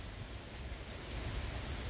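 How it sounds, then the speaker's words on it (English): Steady, dense rain hisses continuously at low volume, an even wash of noise with no voices. "it's pouring down rain right now"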